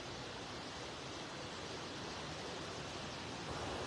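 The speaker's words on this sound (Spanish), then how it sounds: "me ha tocado verlo lleno, en su máxima capacidad, este río" River running at full capacity, a steady broadband rush of flowing water that stays even and fairly distant throughout, with no voices.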